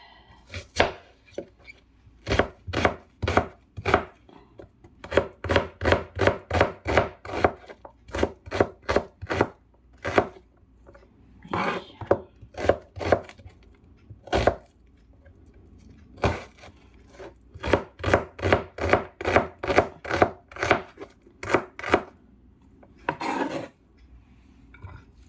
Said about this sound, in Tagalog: cut natin yung ating bawang